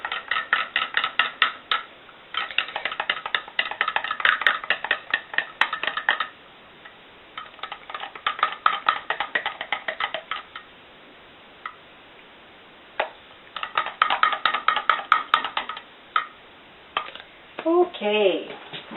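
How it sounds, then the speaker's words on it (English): Soap is stirred in a container during handmade soap making, making repeated clinking, tapping scrapes in uneven bursts with short pauses and a faint voice near the end. "I'm just going to mix it this way."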